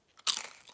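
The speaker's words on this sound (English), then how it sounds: "And they're crunchy too, and salty," Lay's potato chips crunching in a single close, sharp bite followed by a brief chewing tail, with no talking.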